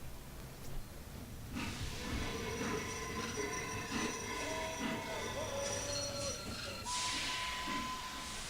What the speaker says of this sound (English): these trains are miserably slow.